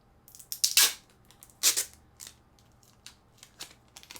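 Scissors snip through packing tape in a few quick, crisp cuts, two louder snips standing out among lighter clicks and rustles, up close against a quiet background.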